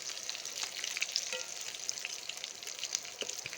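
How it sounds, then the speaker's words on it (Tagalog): Eggplant fries in a pan with a constant bright, crackling sizzle and scattered spits and pops, close and steady throughout with no voices. "nagluto tayo ng fried eggplant"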